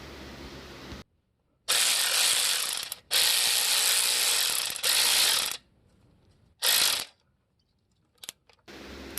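Socket ratchet clicking rapidly in several bursts while tightening an 8mm hose clamp on a Subaru turbo oil return hose, loud and close with short pauses between strokes.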